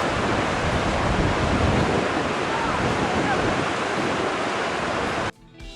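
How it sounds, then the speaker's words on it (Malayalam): Steady, broad rushing of the hot-water Firehole River in Yellowstone National Park, loud and continuous, cutting off abruptly near the end to a quieter background. "തിളച്ച വെള്ളം ഒഴുകിയിറങ്ങുന്ന നദി"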